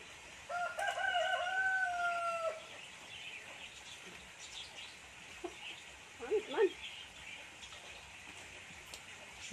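A rooster crows on a farm, a long drawn-out call in the opening seconds, followed by scattered clucks and chicken calls amid outdoor background noise.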